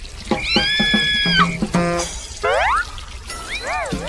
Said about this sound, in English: But George, oops! He splashes Peppa instead.